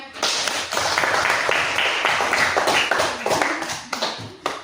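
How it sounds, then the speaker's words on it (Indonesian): A classroom of students clapping hands for a classmate after a lesson on the Wali Songo, a dense, steady burst of many close claps lasting several seconds before tapering into scattered final claps. "kasih tepuk tangan buat Novanya."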